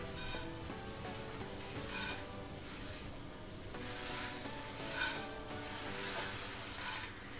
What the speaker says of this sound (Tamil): இப்போ இந்த பிளேட்டில் உள்ள பொருளெல்லாம் வந்து வறுத்து எடுத்துடலாம்.